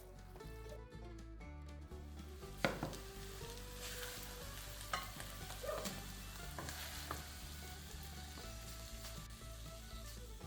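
Beef rib coxinha filling stirred in a pan over the heat, giving a steady close sizzle and frying crackle with occasional scraping stir strokes throughout, under a soft background of music.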